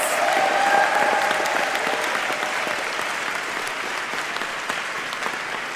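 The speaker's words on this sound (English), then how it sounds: "Let's have another round of applause for our doctoral degree recipients." Sustained, dense applause from a large audience at a music school commencement ceremony, fairly loud at first and easing slightly while staying steady throughout.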